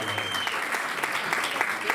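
An audience applauds to welcome the performing group Fantasy Latino. The clapping is dense and continuous, with voices mixed in under it, over a short stretch.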